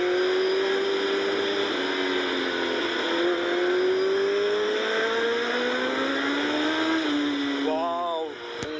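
A Suzuki Hayabusa fitted with a full exhaust system accelerates hard with wheel spin on the road, its loud engine note climbing steadily for several seconds before a quick upshift near the end.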